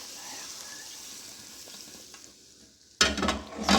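Hot tadka of onions fried to light golden hits cooked rice and lentil khichdi with a sudden loud sizzle and crackle, following a quiet stretch of low kitchen sounds.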